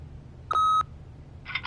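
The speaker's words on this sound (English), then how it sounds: "leave a message at the beep and we'll get back to you as soon as... humanly possible. Beep!" A short, loud electronic answering machine beep sounds alone in The Wolf Among Us video game. A faint brief electronic chirp follows a moment later.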